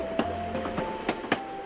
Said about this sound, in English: cities have their rhythms, like the click-clack of a train